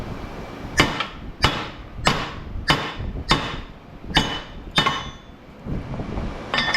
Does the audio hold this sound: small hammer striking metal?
yes